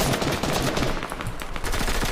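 Rapid gunfire rattles through a shooter video game in dense, continuous bursts that sound like automatic weapons, loud and up close, with no talk over them.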